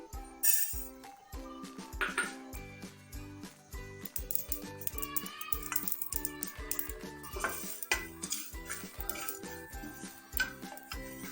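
Spices are dry-roasted in a pan for a masala chilli recipe, with clattering metal scrapes and knocks from pan and utensil, close and busy, over faint background music.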